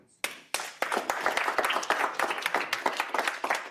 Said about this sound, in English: Give Taylor a big round of applause.